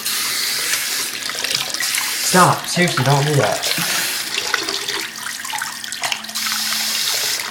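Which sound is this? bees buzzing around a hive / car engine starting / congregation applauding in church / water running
water running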